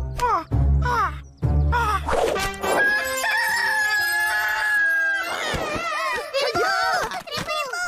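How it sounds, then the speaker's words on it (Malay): Rooster crowing in the Upin Ipin cartoon, a drawn-out harmonic call running through the middle of the clip, with children's voices talking excitedly around it. "Mana itu ayam? Ayam Rainbow."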